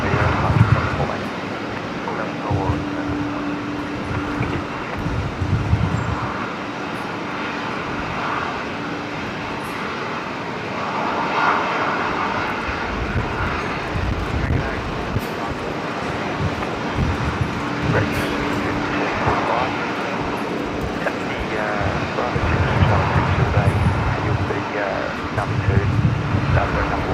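Aircraft taxiing at Brisbane Airport, a steady broadband jet engine rumble with a low hum holding throughout, swelling slightly toward the end, with voices talking over it.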